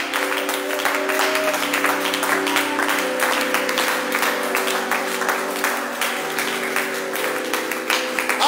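Congregation applauding and acclaiming Jesus at a church night service, steady sustained clapping and crowd noise filling the hall over a held musical drone.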